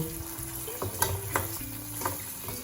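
Tomato, soy and red chilli sauces sizzle in a pan over a high gas flame for chilli fish, a steady frying hiss broken by a few scraping stirs, close and alone.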